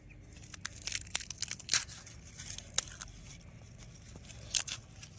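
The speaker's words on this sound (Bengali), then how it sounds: "এবার কয়েকটা কোয়া নিয়ে নেব রসুনের থেকে" Cloves are pulled from a garlic bulb by hand, giving close, dry papery crackles, snaps and tearing sounds in irregular bursts over a quiet kitchen background.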